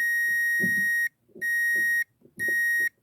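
Three sharp, high electronic beeps from a continuity tester checking potentiometer pins connected to ground sound in sequence, each held for about half a second, with low clicking and handling noises beneath.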